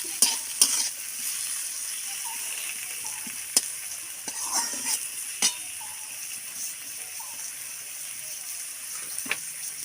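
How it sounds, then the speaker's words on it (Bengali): Spices being stir-fried in a pan make a soft, steady sizzle with occasional sharp clicks and scrapes of stirring, close and unaccompanied by talk. "এবার আমি মশলাগুলো ভালো করে ভাজবো।"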